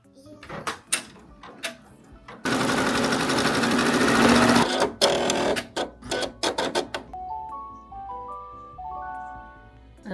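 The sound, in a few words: embroidery machine stitching a design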